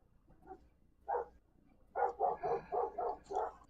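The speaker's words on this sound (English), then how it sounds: "I apologize about my dogs." Dogs bark in a room nearby, two early single woofs followed by a rapid run of six loud barks, with no voices over them.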